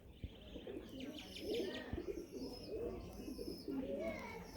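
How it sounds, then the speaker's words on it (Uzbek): Pigeons coo close by in repeated soft, throaty rolls that continue almost throughout, with a couple of faint clicks and a quiet voice in the background. "Tushadi hozir kaptar."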